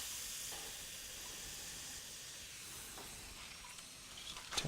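Bird's nests frying in hot oil give off a steady, fairly quiet sizzle and hiss that runs throughout, with a few small pops near the end and no talking.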